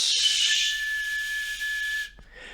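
Breath is forced through a curled tongue during Hamsa pranayama practice, producing a steady, piercing whistle over an airy hiss that holds for about two seconds and then cuts off.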